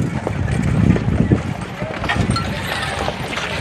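Horse hooves clip-clop at the Sovereign Hill heritage town in Ballarat, Victoria, from a large horse with hairy, feathered feet. The steady knocking runs through a busy outdoor hubbub with crowd noise and murmuring voices.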